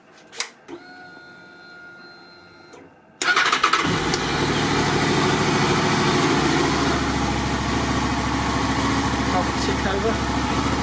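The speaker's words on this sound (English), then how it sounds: "Tick over, it's fine." A motorbike that has stood unused for a while fires up after a few faint clicks and settles into a steady, close idle that runs on evenly; someone talks briefly over it.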